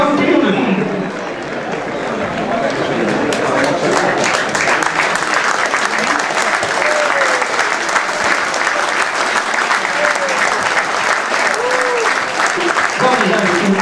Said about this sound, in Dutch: Geeft u ze allemaal nog een hartelijk applaus, want ook zij zijn kampioenen.